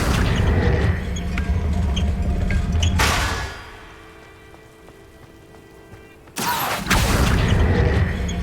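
A spell being cast in Hogwarts Legacy: a loud, dense magical burst fills the start, fades to a quiet low hum in the middle, then a second sharp swell of sound returns near the end.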